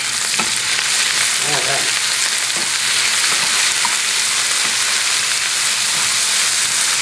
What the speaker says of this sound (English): I'm gonna throw in some roughly chopped capers